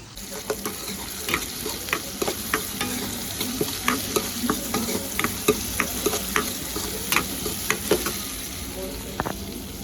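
Fish gravy bubbles and sizzles in a pan on an induction cooker, with repeated scraping stirs in a loose rhythm, close and steady, and no talking.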